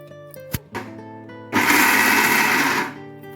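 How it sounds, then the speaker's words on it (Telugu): A kitchen mixer grinder pulses fried peanuts and other fried ingredients into powder. A few clicks and knocks come first, then a loud whirring grind of about a second and a half that stops abruptly. "ఫ్రై చేసిన అన్నీ కూడా మిక్సీ పట్టుకోవాలి"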